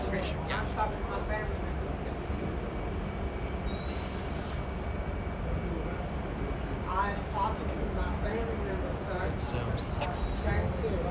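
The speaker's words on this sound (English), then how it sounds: "so this is the train." A train rolls past at Fort Worth Central station, a continuous near rumble of railcars with brief metallic wheel squeals, while people talk over it.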